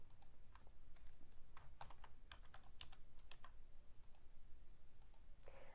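Steady typing on a computer keyboard while entering diagnosis codes into QA coding software, with a run of quick, irregular key clicks close to the mic. Low room hum sits underneath and nobody speaks.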